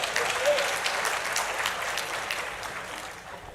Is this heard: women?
yes